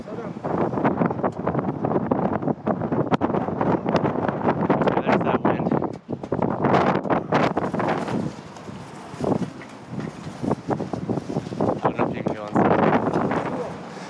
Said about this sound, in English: When you get out into the open, the wind just is crazy